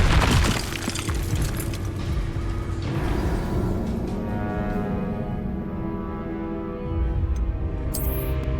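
Glacius ice spell bursting and shattering in Hogwarts Legacy, a loud crackling crash followed by a long, busy ringing decay of icy debris, with a second swell near the end.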